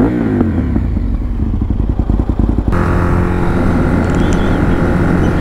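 An Aprilia RSV1000R motorcycle engine runs loud and close, its low throbbing note shifting pitch partway through as revs change, with rattly clatter riding over the rumble.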